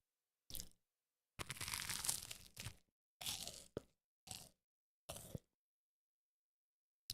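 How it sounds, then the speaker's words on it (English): Crunchy toast bitten and chewed close to the mic, about six sharp crunching bursts separated by near-silent pauses, the longest burst early on. "Toast ASMR."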